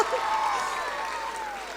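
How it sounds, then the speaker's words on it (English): Audience applause for Mr. Fonseca at a school acknowledgements and felicitation event, a steady wash of many hands clapping with crowd noise, fairly close and sustained. "I'm sure the clap will be the loudest for Mr. Fonseca"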